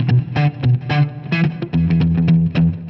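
Electric guitar played through a J Rockett Melody overdrive pedal, giving a fatter, thicker drive; a loud, close run of distorted notes and short chords with sustained low tones between picked attacks, no talking.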